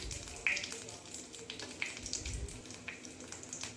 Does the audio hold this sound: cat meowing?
no